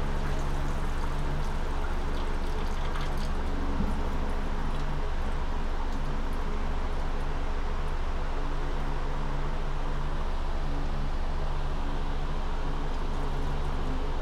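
Water poured gently off a heavy tray of sand sown with microgreen seeds, a steady close rushing and trickling stream with no talk.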